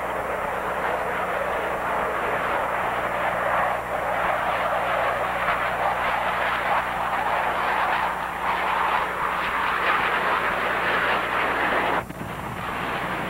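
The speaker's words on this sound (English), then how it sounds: "That's the KC-130 Hercules doing a jet-assisted takeoff." A KC-130 Hercules makes a jet-assisted takeoff at an air show at MCAS El Toro, heard as a loud, sustained broadband roar that holds steady for about twelve seconds before easing, with no talk over it.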